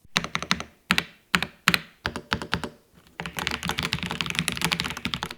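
Typing on a Keychron V10 Max keyboard with Gateron Jupiter Banana switches and an Alice layout: crisp, close keystrokes in short spaced bursts, then a fast continuous run of clacks.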